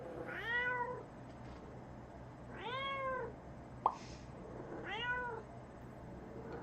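A cat meows three times at a steady pace. Each cry is clear but fairly quiet against a low room hum, and a single faint click falls between the second and third meows.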